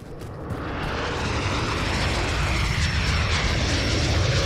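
Jet aircraft roaring overhead in the video game Call of Duty Modern Warfare, a broad engine rush swelling from quieter onset to a sustained loud drone, with no talk.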